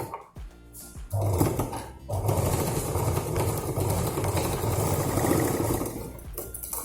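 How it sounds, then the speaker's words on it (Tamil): Sewing machine stitching lining cloth for a handbag, a steady close mechanical whir and rapid needle chatter running for several seconds, starting and stopping at the edges. "இப்போ இந்த இடத்துல இங்கேருந்து இங்கே வரைக்கும் ஒரு படிமான தையல் போட்டுக்கலாம்."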